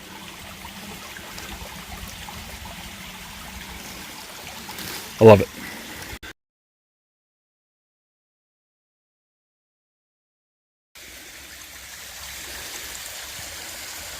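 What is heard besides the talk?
water of a small creek flowing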